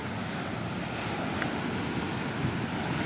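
Sea waves and wind at Kappad beach in Kerala, a steady broad roar of surf with wind buffeting the microphone, continuous and fairly loud, no talking.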